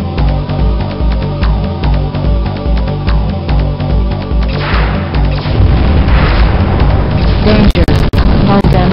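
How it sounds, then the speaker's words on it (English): Reactor destroyed in the 1996 PC game Hellbender: repeated rhythmic booming pulses build into a loud, dense rumbling blast that swells and holds, ending with a few sharp crackles. "Reactor destroyed."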